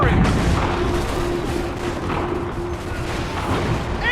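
Incoming cannon fire in Assassin's Creed III, a loud, sustained roar of distant booms and gunfire with a steady low hum, and a few shouts mixed in.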